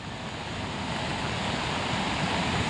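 Loud, continuous broadband rushing of surf with wind buffeting the microphone, steady throughout with no voices.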